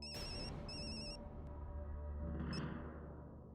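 A household phone rings with an incoming call from a father in an Indian family sitcom home. Two short bursts of a bright electronic ringtone sound faintly over a low steady background hum.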